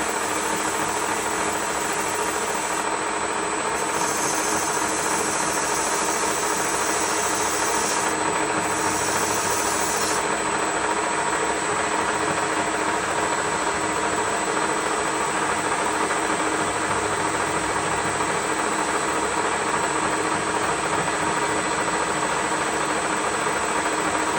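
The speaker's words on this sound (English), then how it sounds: "just your 280 or 180 emery to deburr the edge" Emery cloth of 180 or 280 grit deburrs the edge of a spun aluminum skimming ladle turning on a metal-spinning lathe. A loud, steady, continuous whir of the running lathe holds throughout, with no talk.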